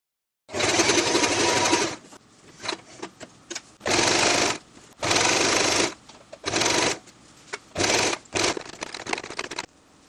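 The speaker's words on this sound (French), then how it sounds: "on laisse l'aiguille plantée, on lève le pied pour pivoter et former une belle pointe et un joli creux" A sewing machine stitches a padded ribbon heart in loud, rapid bursts of a few seconds each, separated by short quiet pauses with small clicks and handling noises.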